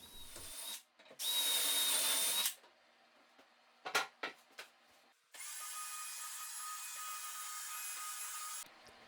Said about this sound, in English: this one in particular has its own extra function where you can drill out for the pins